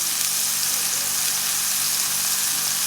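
Hamburger patties sizzling steadily in a pan for a pantry-style beef and gravy meal, a dense, even crackle of frying fat filling the whole stretch with no talk over it.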